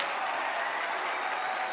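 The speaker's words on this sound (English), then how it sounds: "Give a big round of applause, and thank you." A studio audience at a psychology lecture applauds, a steady, even wash of many hands clapping at moderate loudness throughout, with no voices over it.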